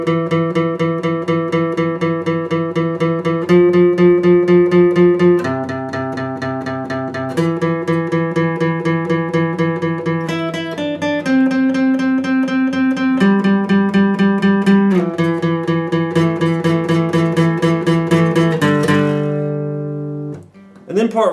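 An electric guitar plays the first three parts of a riff, a busy run of rapid picked notes and shifting chord shapes that rings out clearly and alone, ending with a brief pause.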